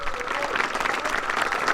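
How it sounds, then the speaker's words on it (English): A crowd at a fifth-grade graduation ceremony applauds for the graduating class, a dense steady patter of clapping filling the whole short stretch at moderate loudness. "Let's give a big round of applause for our graduates."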